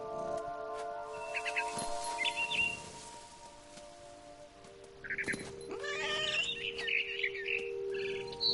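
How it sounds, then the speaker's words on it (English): A barn swallow chirps in What Remains of Edith Finch, short high twittering calls in scattered bursts over a steady tonal music bed, with cat-like cries mixed in. "Then I heard chirping outside my window. It was a barn swallow going back to her nest."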